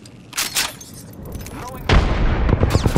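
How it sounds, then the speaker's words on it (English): A frag grenade going off in the Apex Legends shooter game, a loud deep boom about two seconds in that follows scattered gunfire, with a speaking voice over the game sound. "Frag grenade set."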